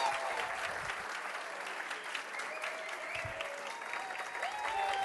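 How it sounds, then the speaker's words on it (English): Audience clapping welcomes a speaker onto the stage at a tech conference, steady continuous applause heard from a moderate distance, fairly quiet and even throughout with a few murmurs in the crowd. "give a big round of applause for Matteo."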